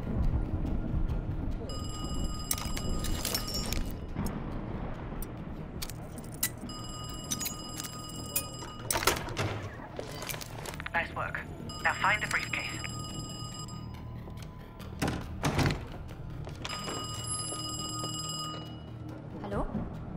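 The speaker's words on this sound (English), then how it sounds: "I'm about to phone Kraus's apartment." A telephone rings inside a Call of Duty Black Ops Cold War apartment, repeating in regular bursts of bright electronic trills over a steady ambient game backdrop with scattered thuds and footsteps.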